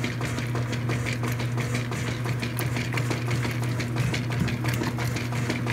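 A Kenmore 80 series washing machine agitates a sudsy load, producing a loud, steady mechanical hum with a rhythmic churning pulse throughout.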